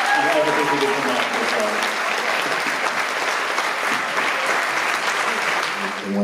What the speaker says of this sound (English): give him a massive round of applause for everything he did and everything he did for Mark